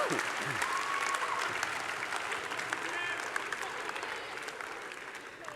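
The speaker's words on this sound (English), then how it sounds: "Give yourselves a round of applause." Conference attendees break into dense, continuous applause that holds steady, with a few faint voices and whoops under the clapping.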